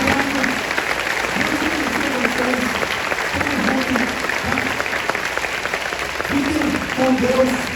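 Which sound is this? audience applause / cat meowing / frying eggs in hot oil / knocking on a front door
audience applause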